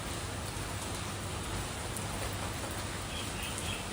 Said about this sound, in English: And let's enjoy some rainy vibes.